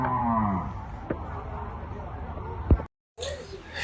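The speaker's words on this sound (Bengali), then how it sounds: "ফিজিয়ান জাতের একটা গরু দেখতে পাচ্ছেন" A Friesian cow at a cattle market gives a short, deep moo at the start, followed by steady crowd noise with nearby voices and a sharp knock near the end.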